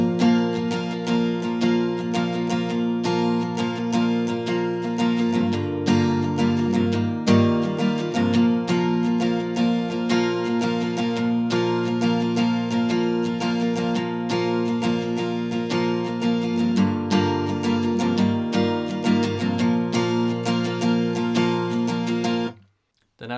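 An acoustic guitar strums the bridge chord progression of a song in a steady verse-style rhythm, close and full for over twenty seconds before stopping abruptly.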